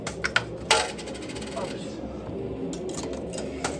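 Coins clinking and dropping in an arcade coin pusher machine, several sharp metallic clatters and jingles over steady machine hum, with people talking nearby.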